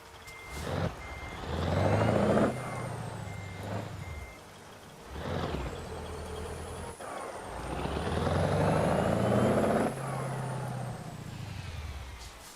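Heavy truck in American Truck Simulator, a driving game: engine drone swells and falls through gear changes over roughly twelve seconds, with a high whine and a faint repeating beep riding on top.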